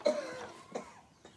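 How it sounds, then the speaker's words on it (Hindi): A person lets out a harsh cough, followed by two smaller coughs, close and fairly quiet. "बस जान गए खांसी आवत भी आए"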